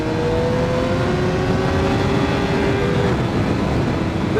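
Motorcycle engine on a track, steady loud drone with a rising rev as the throttle is rolled on through a corner, continuous throughout with no pauses.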